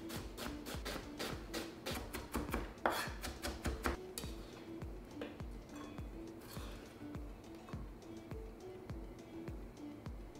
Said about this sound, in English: I'm chopping up half of medium-sized yellow onion.